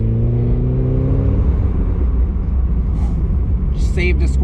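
A budget turbocharged Mazda Miata running 14 psi boost accelerates with a rising, revving engine note that gives way to a deep rumble, loud and close from inside the car, with talk near the end.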